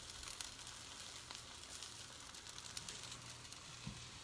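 Egg white omelet cooking in a pan, a faint, steady frying sizzle with light crackles throughout, quiet and distant-sounding, no voices.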